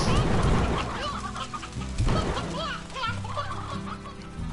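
Chickens cluck in the game Slime Rancher, quick chirpy calls scattered over loud, busy game music and splashy effects, with speech-like sounds mixed in.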